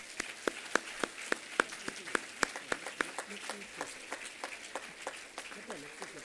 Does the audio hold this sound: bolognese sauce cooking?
no